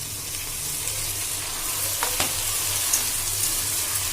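Chopped onion and tomato fry in oil in a pan, giving a continuous close sizzle with a brief scrape of stirring partway through.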